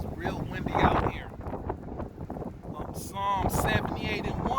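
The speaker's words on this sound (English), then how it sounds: "Yes, it's real windy out here." Strong outdoor wind buffets the microphone in low, uneven gusts, rising and easing throughout, with faint voices and rustling mixed underneath.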